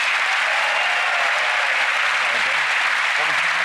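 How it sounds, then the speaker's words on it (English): Loud, dense audience applause for Sarah in a magic-show studio audience, continuous clapping throughout with a faint voice under it. "Give Sarah a big round of applause, ladies and gentlemen"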